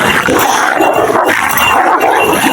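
Dogs fight outdoors on open land, making a loud, dense, continuous tangle of snarls, growls and yelps with no pauses.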